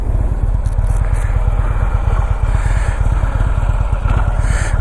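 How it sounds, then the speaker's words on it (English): 2015 Harley-Davidson Ultra Limited motorcycle engine running with a loud, steady, close low-pitched pulsing rumble and constant wind rush. "I want to introduce you to my 2015 Harley-Davidson Ultra Limited."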